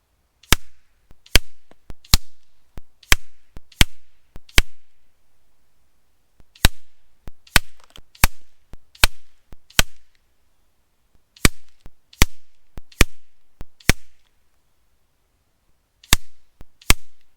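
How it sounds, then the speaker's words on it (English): FX Impact M3 PCP air rifle, tuned for about 965 fps, fired in a steady series of about twenty sharp, loud cracks in short groups with brief pauses between them, no talking. "let's take a few shots and see how it works"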